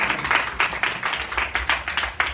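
A church congregation applauds with dense, rapid hand clapping that pulses in rhythmic bursts, loud and close, filling the whole moment without talk.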